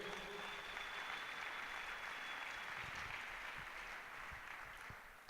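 A church congregation claps in a broad, even wash of applause that holds steady, then thins and fades near the end, heard from a moderate distance.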